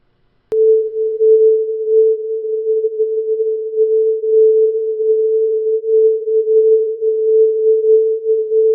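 A single pure steady tone near A440 starts abruptly after a brief silence and holds at an even, loud level, with nothing else around it.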